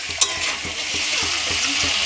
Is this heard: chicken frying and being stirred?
yes